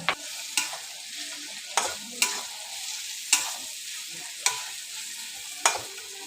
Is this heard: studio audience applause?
no